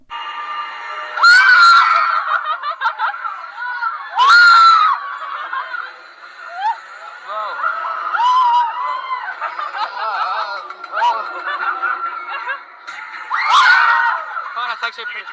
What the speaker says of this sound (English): you're gonna hear me and the group I'm with in this elevator screaming